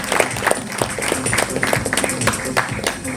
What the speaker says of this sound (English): Can we please invite him on the stage with a huge round of applause?